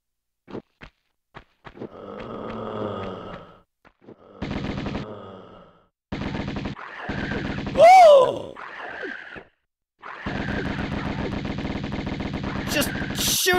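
Gunfire in the Tomb Raider video game: rapid bursts of automatic fire in several separated volleys with single shots, growls and a sharp whistling cry between them, loud and close, with no talking.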